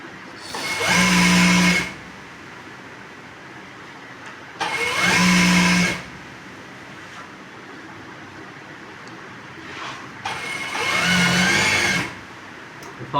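A sewing machine stitching along the edge of trousers runs in three separate whirring bursts of about a second each, with quiet gaps between them and faint room noise.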